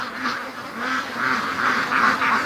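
Free-range ducks at a lake, a small group giving repeated nasal quacks in an uneven rhythm, fairly soft and a little distant, with no talking.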